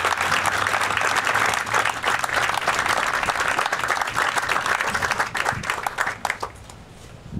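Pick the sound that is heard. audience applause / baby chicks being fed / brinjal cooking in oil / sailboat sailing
audience applause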